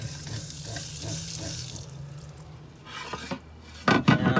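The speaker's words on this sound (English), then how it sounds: "I have water in the sink." Faint trickle of water running into a camper van sink, fed from jerry cans, then louder splashing bursts near the end, close by with no voices.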